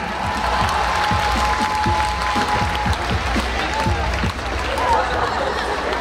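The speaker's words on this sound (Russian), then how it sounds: "Встречайте аплодисментами." Audience applause at a dance show with a violinist, a dense steady wash of clapping mixed with crowd chatter and some music underneath, loud and continuous throughout.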